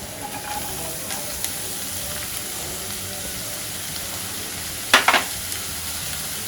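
Small pieces of onion sauté in hot oil with a steady hiss close by, and near the end a couple of sharp clatters from a utensil against the pan.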